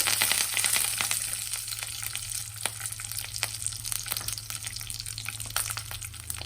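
Peanuts and coconut fry in a pan with a steady, close hissing sizzle dotted with small pops and crackles throughout.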